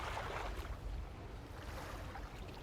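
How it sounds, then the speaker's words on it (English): A boat engine in the video game Dredge, a steady low drone with watery wash, running continuously and fairly close with no pauses. "Keep your engine noise to a minimum."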